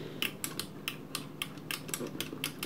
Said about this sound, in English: The micro switches are nice and clicky